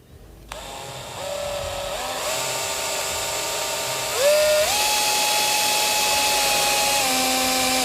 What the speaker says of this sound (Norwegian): Så da borer jeg i hvert fall ikke gjennom skia.